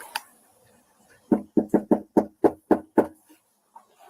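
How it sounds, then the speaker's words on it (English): Eight firm knocks on a small house's front door at night, delivered by a police officer in a quick, fairly even rhythm, loud and close, followed by quiet. "Let me knock on the door."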